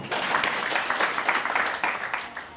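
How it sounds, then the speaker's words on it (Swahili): Audience at a memorial service applauding: a steady, moderately loud patter of many hands clapping together for about three seconds, with no voices standing out. "Tumpigie makofi."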